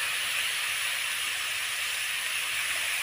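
Pork belly frying in oil in a pan, a steady bright sizzling hiss that holds evenly throughout with no pauses and no voices.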